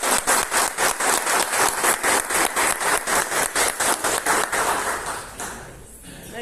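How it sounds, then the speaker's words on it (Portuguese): Brisk, steady rhythmic clapping from a group audience, loud and even for about five seconds before fading out. "Uma salva de palmas, gente."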